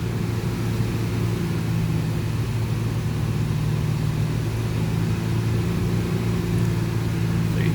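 The engine of a 2007 Honda Pilot is held at about 3,000 rpm, making a loud, steady droning hum with a constant pitch and no talking.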